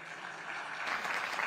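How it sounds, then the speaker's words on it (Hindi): An audience at a televised Indian election forum claps. The applause swells in about halfway through as a dense, crackling wash and continues steadily to the end. "थोड़ा ताली बजा दो"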